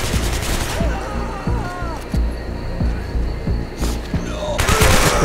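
Gunfire in the violent shooter video game Hatred, a rapid run of sharp repeated shots at close range over a low rumble, ending in a louder burst, with someone talking over it.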